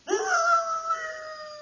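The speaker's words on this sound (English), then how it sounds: "Jacko, the three-quarter Irish setter" An Irish setter, three-quarter bred, lets out a single long, loud howl in an old-time crime radio drama, rising sharply and then holding a steady, slowly fading tone with no other sounds.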